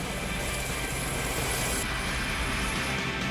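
Steady, loud rotor and engine roar of a nearby search and rescue helicopter, a dense continuous drone that holds for the whole few seconds with no voices.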